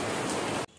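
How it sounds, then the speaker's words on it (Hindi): Steady rain pouring in winter, a dense, even hiss that fills the space loudly and then cuts off abruptly near the end, leaving a much quieter background. "बस वहीं से स्टार्ट हो गया बारिश।"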